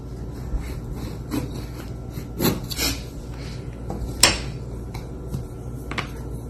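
A small kitchen knife cutting through Jamaican beef patty dough, giving several short scraping rasps on a board, near and fairly crisp, with no talking.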